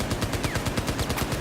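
Rapid bursts of automatic gunfire in the video game Battlefield 4, a tight, evenly spaced string of close, loud shots crackling one after another with no voices over them.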